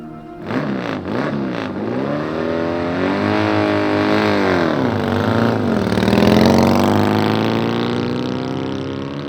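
A racing motorcycle engine revs hard at a race event, its pitch climbing and dipping through repeated throttle sweeps and swelling to a loud, close roar before easing slightly at the end.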